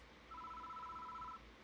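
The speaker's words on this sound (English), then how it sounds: "The phone began to ring." A telephone rings once in the horror adventure game Death Mark, a clean electronic two-tone trill lasting about a second over a low, quiet ambient drone.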